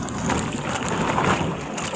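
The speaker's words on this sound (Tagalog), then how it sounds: "malakas ang hangin guys oh" Strong wind rushes steadily across a small fishing boat near the shore at sea, a loud, continuous broadband roar with gusting buffets against the microphone and no voices.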